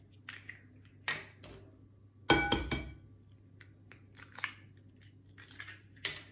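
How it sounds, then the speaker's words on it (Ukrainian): Two eggs cracked into a bowl in a home kitchen, a few sharp shell taps and crunches, one cluster louder than the rest, with quiet clinks and small handling noises around them, close and fairly soft. "Б'ю сюди ще двоє яєць."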